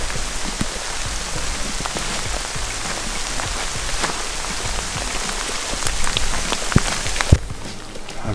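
Torrential rain pours down in the Arctic, a dense, constant patter of drops hitting surfaces up close, loud and unbroken, with a few sharper splats near the end.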